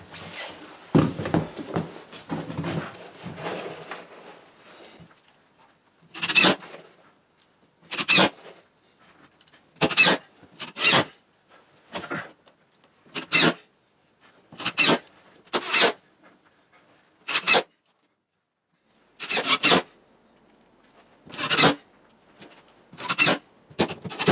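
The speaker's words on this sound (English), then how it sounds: "I got some screwing to do here." Screws are driven overhead into chicken coop roof sheathing, with a cluster of quick rasping bursts first and then about a dozen separate short whirring runs spaced a second or two apart.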